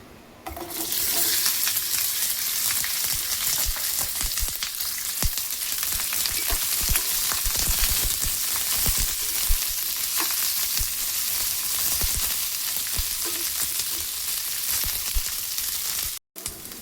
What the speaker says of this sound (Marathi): तेल टाकून घेऊया। भेंडी भाजून घेऊया।